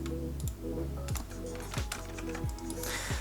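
Computer keyboard keys are pressed in quick, crisp clicks at a steady irregular rhythm during 3D modeling work in Maya, close and moderately quiet with no talk.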